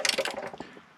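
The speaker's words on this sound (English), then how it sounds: "Tighten that down." Ratchet clicking rapidly while tightening oil pan bolts on a 2012 Dodge Journey 2.4L, a close, dense burst of metallic clicks that tapers off within a second.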